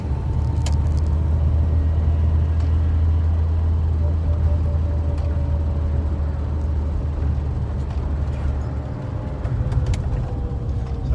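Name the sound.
Austin Allegro car driving, engine running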